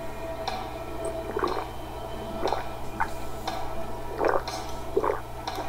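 Water dripping in the horror video game Fears to Fathom: a slow, irregular series of about eight distinct drips, moderately close, over a steady low background hum, with no talking.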